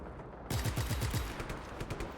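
Gunfire in the video game Just Cause 3 bursts in after a brief quiet start, a rapid fusillade of shots in quick succession that keeps rattling at a moderate distance, with no talking.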